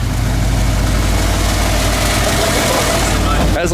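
A Subaru STI car engine idling with a steady, loud low rumble throughout, heard up close.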